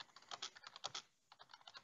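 Someone types quietly on a computer keyboard with quick, light key clicks in two short bursts, separated by a brief pause.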